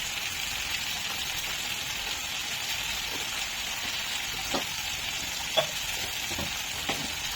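White mustard seeds with cumin and black pepper powder sizzle in hot frying oil for an egg curry, giving a steady, close crackling hiss with a few sharper pops.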